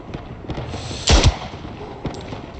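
A grenade blast in the World War I shooter Tannenberg: one loud, booming detonation stands out near the middle over a steady bed of distant gunfire and battlefield rumble, with a few sharper shots scattered before and after.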